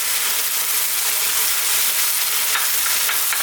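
Cooking cream hits a hot pan with a loud, steady hiss and bubbling sizzle, close up and continuous for a few seconds with no voices.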